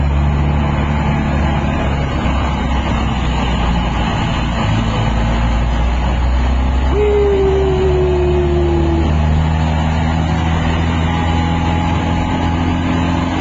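From the front seat of a jeepney riding at night from Riverbank, a steady engine drone and road rumble fill the cabin, with a brief rising tone passing midway and no talk.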